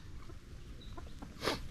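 Faint, soft clucks from a gamefowl broodcock, sparse against a quiet background, with a slightly louder call near the end.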